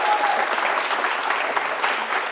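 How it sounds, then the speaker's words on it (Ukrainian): A studio audience at a Ukrainian TV talk show breaks into steady, dense applause, loud and close, sustained without letting up. "Аплодисменти Івану Петровичу."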